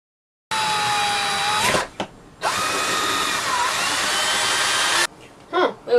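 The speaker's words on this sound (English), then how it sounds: "I just drilled into the hole where there was no stud." A power drill whirs while boring into a wall, in two sustained high-pitched bursts about a second and then three seconds long, loud and close, with speed shifts and a short gap between them and brief tool noises after.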